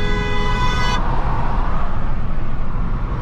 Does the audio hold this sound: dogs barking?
no